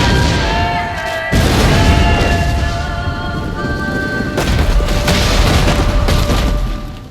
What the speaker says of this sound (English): The cannon fire ceased.